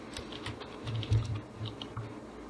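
Soft keystrokes on a computer keyboard, a short irregular run of quiet taps with a few louder presses in the middle, heard alone in a quiet room.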